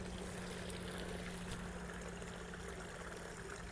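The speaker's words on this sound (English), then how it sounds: "you can see the pondless waterfall." Water trickles steadily down a pondless waterfall in a garden, a continuous close splashing wash with no talk over it.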